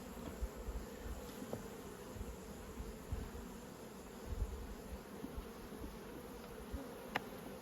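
Honey bees hum at an open nucleus hive while a frame is lifted out for inspection, a steady, faint drone with small bursts where single bees pass close to the ear, and no voices.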